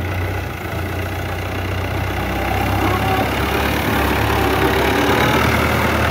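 A tractor engine runs in a field during peanut harvesting, pulling a weighted digger. It gives a steady, loud, low rumble that builds slightly over the stretch, with no voices.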